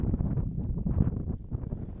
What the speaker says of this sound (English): Wind picking up once again pretty consistently at 20 to 30 miles an hour, probably gusting towards 40